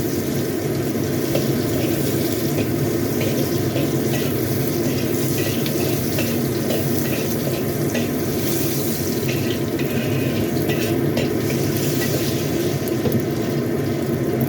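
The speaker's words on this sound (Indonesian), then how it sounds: "Tumis sampai dengan matang, sampai dengan harum." Garlic and ginger sizzling steadily in a hot pan, a dense continuous hiss with small crackles running throughout, fairly loud and without speech.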